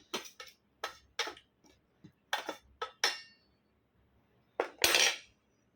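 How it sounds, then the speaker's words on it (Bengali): Metal utensils clinking and scraping in a bowl while green chili is mixed into poppy seed paste, a series of short close clicks and taps with a brief pause, then a longer scrape near the end. "একটা লঙ্কা মেখে নেবো।"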